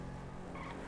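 A three-wheeled motorbike in GTA 5 brakes into a turn. Its engine drones steadily while a brief tire squeal rises near the end, loud and close.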